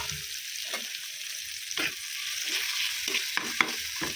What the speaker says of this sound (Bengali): এবারে আমি যে আদা আর রসুন পেস্টটা দিয়ে দেবো